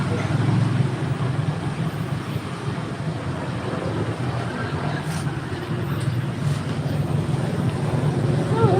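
Cool wind blows steadily across the microphone outdoors, a continuous low rumbling buffet with gusts that rise and fall throughout.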